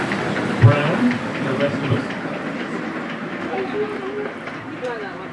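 Bulgra, an Exmoor-built light railway tank engine, runs past at a gala, giving a steady rumbling, clanking roll with a few heavier thumps, close by and mixed with crowd chatter and a voice talking over it.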